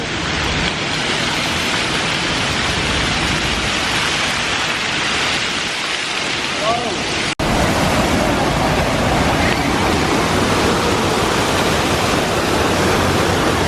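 The Fountain of Wealth in Singapore, a large outdoor fountain, gives off a loud, constant roar of falling and splashing water, heard close up with an abrupt cut partway through.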